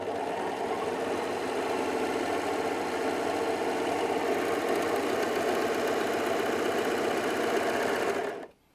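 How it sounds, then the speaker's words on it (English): A Brother 3034D overlocker running a 3-thread overlock stitch, a steady rapid mechanical whirr and chatter held evenly at close range for about eight seconds before stopping abruptly. "So I'm just going to sew the 3-thread overlocking stitch now."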